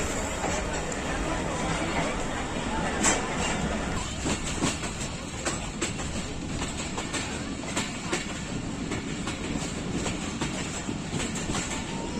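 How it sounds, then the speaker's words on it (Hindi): Allama Iqbal Express (9 Up) runs through Domala railway station in Pakistan without stopping, a steady loud rumble with rhythmic clickety-clack of wheels on rail joints throughout, with faint crowd murmur mixed in. "नाइन अप अल्लामा Iqbal express डोमाला railway station skip कर रही है।"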